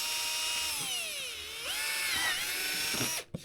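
A power drill whines steadily at close range while boring a hole for a fog light on a Honda Element SC, its pitch sagging under load and then rising again before stopping abruptly.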